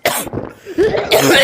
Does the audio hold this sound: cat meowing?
no